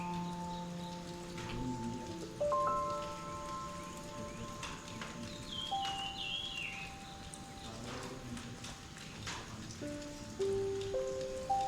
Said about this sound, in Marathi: आकाशातून कोसळणाऱ्या जलधारांचा सोहळा बघण्यात घालवला